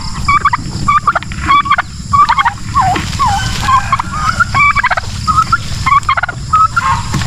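Turkeys gobble repeatedly in bursts, the rapid warbling calls close and loud over a low steady background rumble.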